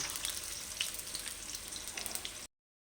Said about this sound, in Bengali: বেগুনগুলো ভাজা হয়ে গেল